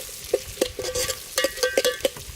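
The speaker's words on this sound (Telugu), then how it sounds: "ఉల్లిగడ్డ వేసుకొని కలబెట్టుకొని కొంచెం గోల్డ్ కలర్ వచ్చేదాకా వేపుకోవాలి" Sliced onions stirred and fried in a pan for a Telugu goat head curry, a soft sizzle under repeated sharp scrapes and clinks of a spoon against the pan, with no talking.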